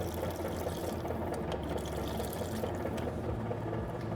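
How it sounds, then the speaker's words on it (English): Water steadily fills an Electro Freeze pressurized soft-serve machine being flushed, a continuous rushing, gurgling stream with a low machine hum underneath, close and even throughout. "We're going to wait until it fills up with water and it leaks out of the air bleed holes"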